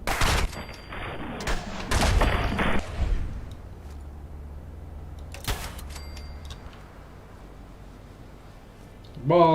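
Loud bursts of explosive rifle fire ring out in Fallout 4 early on, then a single sharp shot follows amid quieter ambience. A voice talks over part of the shooting.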